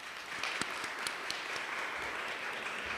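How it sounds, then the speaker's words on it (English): Audience applause at a healthcare symposium, a steady wash of many hands clapping with a few sharper individual claps standing out, moderately distant and even. "can you give yourself a big round of applause?"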